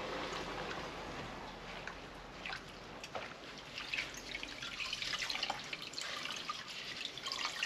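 A DRZ motorcycle air filter is sloshed and squeezed in a bath of clean diesel, giving a steady wet trickling and dripping with soft splashes that swell toward the end.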